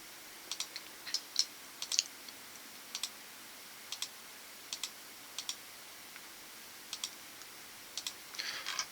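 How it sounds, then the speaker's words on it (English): A computer mouse clicking on line segments during drawing cleanup, quick light clicks in irregular bursts and pairs, close and alone in a quiet room. "you just basically keep clicking on these segments until you clean them up"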